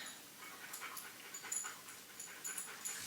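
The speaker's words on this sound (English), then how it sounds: "he pants. He's a big dog." Steady, soft panting from a large dog, breathy rhythmic puffs fairly faint and close, with no voices over it.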